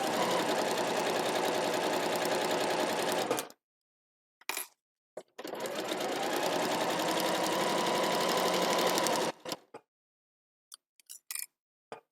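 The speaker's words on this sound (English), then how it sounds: "you're just sewing along that straight line" A domestic sewing machine runs a straight line of stitching along a solid marked line on a Christmas make, in two long steady bursts separated by a pause, with small handling clicks and knocks afterward.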